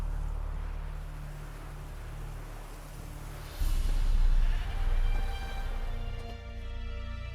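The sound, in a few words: goat bleating, bait tied to a stake, video game The Witcher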